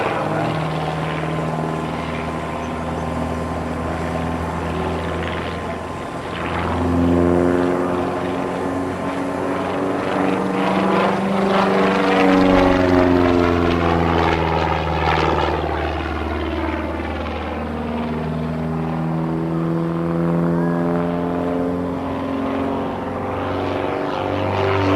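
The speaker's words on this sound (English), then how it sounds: "This is aerobatics par excellence." A propeller plane flies aerobatics at an air show, its engine droning loud and steady as the pitch rises and falls through swooping passes.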